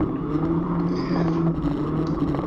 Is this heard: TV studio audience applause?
no